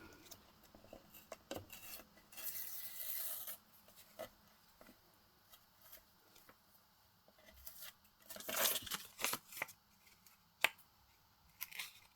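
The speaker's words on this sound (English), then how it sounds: "Need to tear a little bit more" Paper is torn by hand at a crafting table, with a few close scratchy rips and rustles, one longer tear standing out among quieter handling sounds and no voices.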